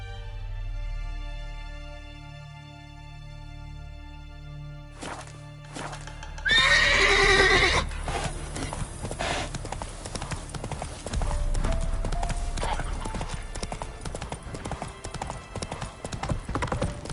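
Roach the horse in The Witcher 3 gives a loud whinny, then gallops with a fast, steady clip-clop of hooves that continues to the end over game music.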